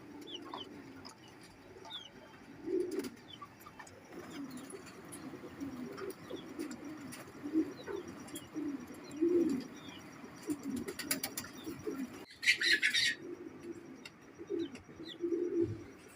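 Repeated low coos of a male Teddy pigeon in soft rolling phrases, close by, with a brief rustle and faint chirps in the background.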